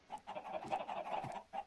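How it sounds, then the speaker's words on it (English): Chickens in the Minecraft video game cluck in a quick run of soft, repeated clucks, quiet and close, with no talking. "These chickens are producing like a shit ton of eggs"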